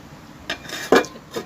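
A lid goes onto a cooking pot of cauliflower, potato and egg curry: a short metallic scrape followed by a clink, close and fairly loud.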